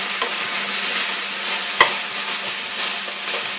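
Chicken and white onion fry in a pan with a steady, close sizzle, broken by a couple of sharp stirring scrapes.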